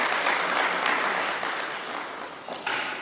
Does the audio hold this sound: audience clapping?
yes